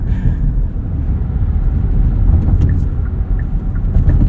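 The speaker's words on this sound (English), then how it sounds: "Off-road in the Kia Sportage, well, on a dirt road in the Kia Sportage X Pro." Interior road noise of a 2023 Kia Sportage X-Pro Prestige on a washboarded dirt road, a dense, steady low rumble with faint rattles and no talking.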